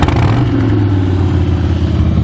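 A 2013 Harley-Davidson Heritage Softail Classic cruiser idles close and loud with a deep, lumpy, steady V-twin throb, heard alone.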